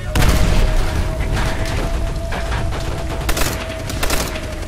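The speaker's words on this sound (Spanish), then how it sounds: "¡Ametralladora enemiga!" Enemy machine gun fire in Call of Duty: World at War, a loud sustained volley of rapid shots with heavy booms and scattered louder bursts throughout.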